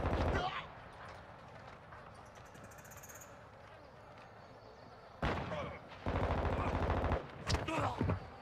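Automatic weapon fire in the Call of Duty: Modern Warfare II multiplayer game, a loud burst at the start, then quieter background, followed by heavy close rapid-fire volleys near the end.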